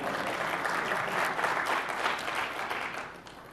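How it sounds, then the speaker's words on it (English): Conference audience applauding a talk on ECMAScript 5, a broad wash of clapping from a large hall that swells, holds, then fades toward the end, slightly distant and without speech. "Yeah, you can applaud anytime you like."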